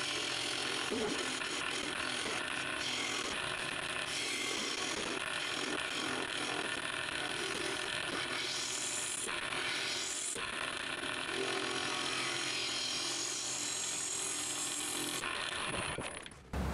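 Purpleheart wood being turned on a lathe into a spinning top, with a steady, continuous loud scraping and shaving drone from the cutting tool throughout and a brief change near the end.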